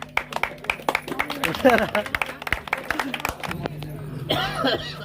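A crowd claps and cheers at a Ganesh laddu auction during a Ganpati immersion festival, giving a burst of loud, uneven applause with voices and chatter mixed in.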